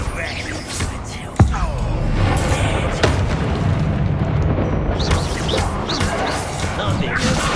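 An incendiary fire spell bursts in Hogwarts Legacy with a sharp, close crack followed by a loud, sustained roaring blast and crashing impacts, while voices speak intermittently over the fiery din.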